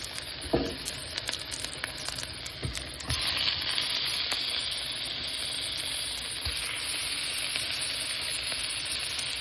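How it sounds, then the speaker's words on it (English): Shrimp sizzle loudly in a pot with peppers that were cooked down first. A steady frying hiss rises after the shrimp go in, and a few knocks and stirring scrapes come near the start. "Since I've cooked my peppers down, I'm going to go ahead and add my shrimp"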